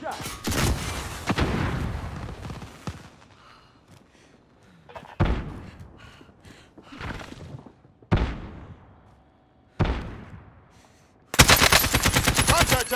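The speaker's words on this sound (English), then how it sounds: "Taking heavy fire" Heavy gunfire in Call of Duty: Warzone: repeated loud bursts of automatic fire and booming blasts in separate waves, close and harsh, ending in a sustained burst.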